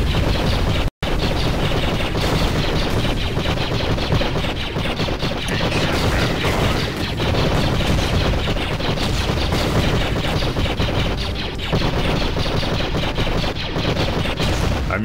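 Relentless rapid automatic fire from the motor gun in the shooter game Duke Forces, a loud, dense stream of shots continuing almost without pause, with one abrupt cut of silence near the start.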